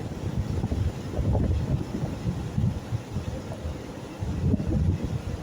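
Low rumbling engine drone from two tugboats pushing a ship on the water, mixed with wind buffeting the microphone and a faint wash of waves.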